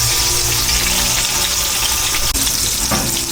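Eggplant sizzles loudly in a pan of hot, spattering oil, a dense continuous crackle close by with one brief break and no talk.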